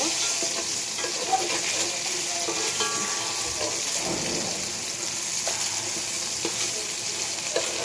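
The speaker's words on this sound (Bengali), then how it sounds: "এই যে আমার বেগুন ভাজি এখন আবার উল্টিয়ে দিব।" Eggplant slices frying in hot oil in a pan, a loud continuous sizzle with occasional scrapes and clicks as the slices are turned.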